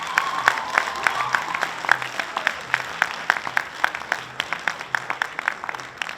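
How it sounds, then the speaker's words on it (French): An award ceremony audience claps steadily, with individual hand claps standing out crisply over a moderate, sustained round of applause, heard at a slight distance. "les lauréats méritent plus d'acclamations"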